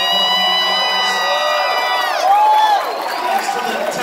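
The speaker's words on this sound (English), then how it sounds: "Round of applause!" A loud crowd cheers and whoops at an electronic music event, with raised voices and drawn-out shouts rising and falling close by.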